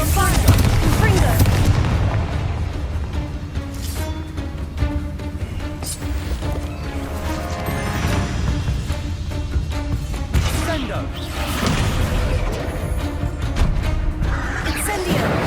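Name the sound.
Bombarda and Confringo spell blasts in Hogwarts Legacy video game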